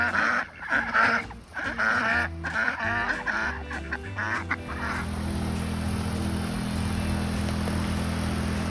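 A duck with a small mohawk-like crest calls in a string of loud honking quacks, and then a steady outdoor hum takes over with no calls.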